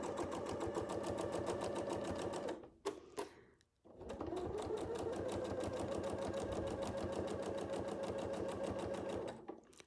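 A sewing machine stitches steadily while tacking down a quilt edge, running in two long continuous bursts with a brief stop and restart near the middle, close and loud with no talking.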